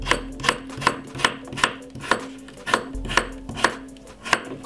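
A knife chops fresh cucumber halves on a cutting board in a steady run of about fifteen crisp, even knocks, close and clear with no talking.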